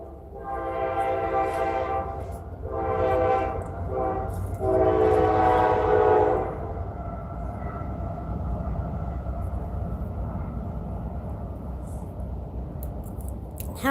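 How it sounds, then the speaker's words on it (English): A train passes close by, sounding three long, loud horn blasts in quick succession, followed by a fading rumble of rolling wagons that carries on alone for several seconds. "Sorry, we just had a train."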